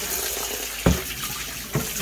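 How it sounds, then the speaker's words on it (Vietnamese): Cold tap water running steadily while ingredients for chè sâm bổ lượng are washed by hand in a sink, with two dull knocks against the basin. "Rửa bằng nước lạnh"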